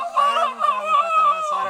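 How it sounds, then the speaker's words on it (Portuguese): Hens at a rural spot in Amazonas give loud, sustained, nasal calls that rise and fall without a break, close by and without any talking. "Até as galinhas estão participando aqui da conversa aqui."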